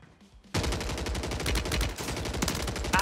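Dense, continuous automatic gunfire from the video game Warzone erupts after a brief quiet start and keeps rattling loudly and close for the rest of the clip, with no talking over it.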